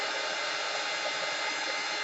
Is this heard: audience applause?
no